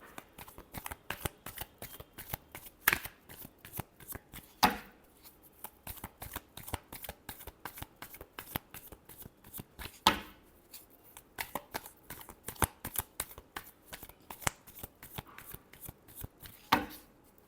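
Tarot cards being shuffled by hand during a reading, a steady run of quick riffling flicks with a few sharper slaps and bridges standing out, close and fairly quiet with no talk.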